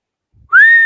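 A single short whistled note rises and then holds steady, loud and close, after a soft thump.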